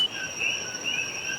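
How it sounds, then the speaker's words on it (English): Coqui frogs calling in El Yunque rainforest in Puerto Rico, high piercing tonal chirps layered in a dense chorus over a steady insect-like hiss, no talk. "that's the coqui, a tiny frog with the sound bigger than the island itself."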